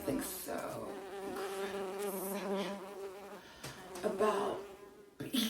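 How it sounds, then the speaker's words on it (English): Bees swarm at a beekeeping site, a dense buzzing hum heard close and steady, with a few spoken words over it near the end. "decides to take him to go and see some bees"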